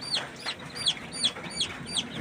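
Young chicks after a Ranikhet vaccination give repeated high, sharp cheeps and clucks in a steady rhythm, about six calls over two seconds, fairly close and clear with no talking.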